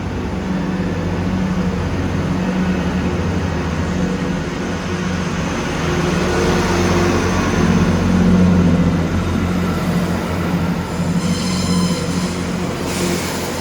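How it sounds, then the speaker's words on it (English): A Great Western Railway passenger train departing Bristol Temple Meads rumbles steadily, its low engine drone building slightly as it pulls away, with a brief high whine near the end. "Starting out now is the 1805 Great Western Railway service from Bristol Temple Meads to Westbury."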